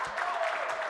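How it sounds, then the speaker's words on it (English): Applause from a crowd welcoming a Cub Scout team, the Wolves of Pack 618, at a hometown scouting game event; a brief, steady burst of clapping at moderate distance. "Give them a round of applause"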